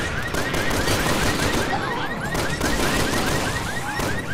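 Sustained rapid automatic gunfire in the video game Resident Evil 6, a dense continuous stream of shots with no pauses and loud in-game ambience underneath.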